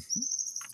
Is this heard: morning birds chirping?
yes